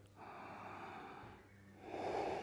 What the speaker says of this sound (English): Last breath.